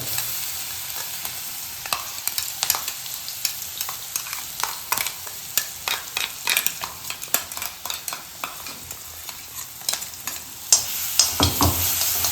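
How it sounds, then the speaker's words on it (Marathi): Green chili paste fries in oil in a wok with a steady sizzle, broken by frequent scraping clicks as a spoon stirs it, loud and close with no voices. "मिरचीचा जो पेस्ट काढली ती एकदा फ्राय करून घ्यायची आपल्याला तेलात"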